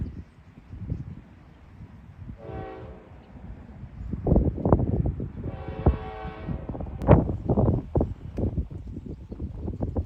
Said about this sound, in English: This southbound Hinkle to Roseville manifest is approaching the 15-mile-per-hour speed restriction on the edge of town.